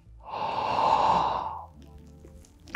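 A deep, long exhaled breath taken during a guided arm-stretching exercise, a loud, steady breathy rush lasting about a second and a half, then quiet.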